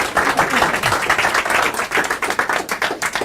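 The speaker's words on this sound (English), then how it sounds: "So everybody give her a round of applause." A small audience at an evening talk gives a round of applause, many hands clapping in a quick, uneven patter that stays fairly loud and close throughout.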